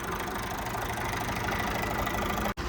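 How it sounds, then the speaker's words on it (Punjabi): Engine idling steadily nearby, a constant even rumble with a brief cut right at the end. "ਇੰਜਨ ਦੇਖ ਲਓ ਜਮਾ ਹੀ ਸਾਇਲੈਂਟ ਹੈ ਟਰੈਕਟਰ ਇਸ ਟਾਈਮ ਸਟਾਰਟ ਖੜਾ"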